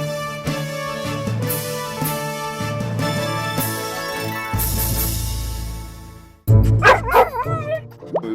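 Dogs rescued from kill shelters bark and yip inside a prison dog-training program, short repeated barks under music and background noise, with louder close yelps toward the end.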